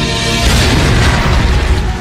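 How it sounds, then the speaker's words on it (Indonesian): Bomb explosion in a war film set against a Dutch military base, a loud continuous rumbling boom filling the whole two seconds with dense low roar and crackling debris, no voices heard. "Namun Thomas tidak mengejar Yanto karena sebentar lagi bom akan meledak."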